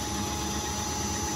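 An Emco lathe, retrofitted with a VFD, runs its spindle forward at about 1500 RPM, giving a steady, faint mechanical whir and hum with no change over the short stretch.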